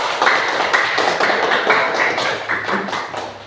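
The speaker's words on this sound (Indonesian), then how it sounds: "aplaus untuk kelompok di kedua" A classroom group applauds the second group, a quick run of sharp, fairly loud claps in an even, almost unison rhythm that lasts a few seconds.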